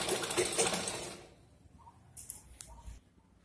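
Sewing machine stitching the sleeve of a simple suit from the cuff up to the side slit, a dense whirring run that stops after about a second, followed by a few faint short clicks and bursts.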